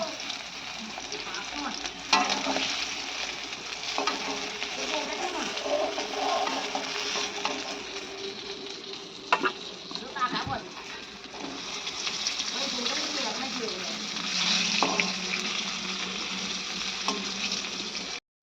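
Continuous loud sizzling and spattering of katla fish frying in oil, with occasional scraping and clatter from the pan, and no talking.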